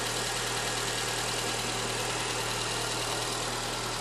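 A 2009 Honda Accord engine idles after a timing chain repair, running as a steady, even hum with no break and no voices.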